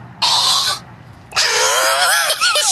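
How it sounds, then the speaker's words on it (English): A man turns his head away from his microphone and clears his throat in two loud, rasping bursts, a short one and then a longer, harsh, strained one. "Can you turn my mic down so that I can turn my head and try and clear my throat?"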